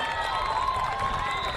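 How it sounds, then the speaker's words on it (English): A high school varsity football crowd at Redondo Union versus North Torrance applauds and cheers a run. The roar is steady and sustained, with a commentator's voice over it. "Crowd on their feet as well, applauding that Bo Osmus carry."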